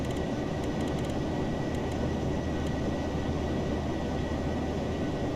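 A steady jet engine drone from a Ryanair Boeing 737-800 in a flight simulator, with a constant low rumble and whine on approach, even and unbroken, with no talk.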